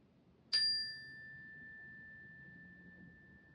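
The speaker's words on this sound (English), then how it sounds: "pay attention to the sound of the chime all the way through" A single chime rung during a mindfulness exercise for high school students: one sharp metallic strike that leaves a clear, pure tone sustaining and slowly fading over several seconds in a quiet room.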